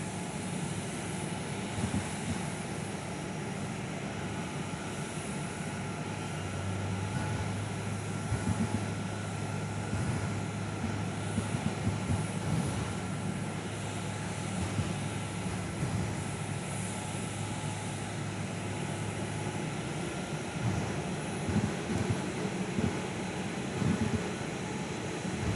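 An Air New Zealand jet taxis outbound at Perth airport, a steady, distant engine whine and roar holding at low level throughout, with no voices.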